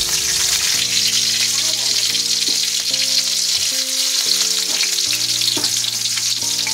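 Green chillies frying in hot oil in a home kitchen pan, a steady dense sizzle running throughout under a faint melodic tone.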